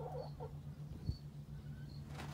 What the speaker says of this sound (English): So yeah, you have the two little clucky hens.